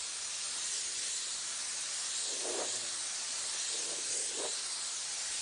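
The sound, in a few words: spray gun spraying flame paint coats on a vehicle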